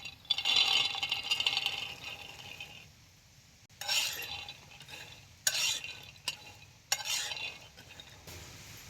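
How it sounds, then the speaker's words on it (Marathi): Peanuts rattle and scrape across a hot griddle in bursts of stirring, with a soft sizzle and brief pauses between strokes, in a village kitchen. "आता तवा तापलायचे शेंगदाणे ओततो।"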